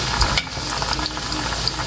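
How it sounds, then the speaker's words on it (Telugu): Veg manchurian balls frying in oil on a medium flame, a dense continuous sizzle and crackle with small pops from turning, close and steady. "ఇలా రెండు వైపులకి తిప్పుకుంటూ మనం ఇది ఫ్రై చేసుకోవాలి"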